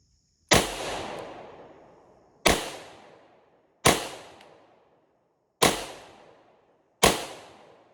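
Five sharp, loud Hi-Point G1 pistol shots ring out outdoors at uneven intervals, each a hard crack followed by a decaying echo tail, with no talking.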